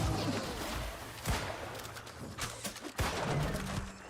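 Gunfire in the fantasy MMO New World: Aeternum: a few separate sharp shots, one near 1.3 s and another near 3.0 s, rising over a steady hum of background game ambience. Nobody speaks.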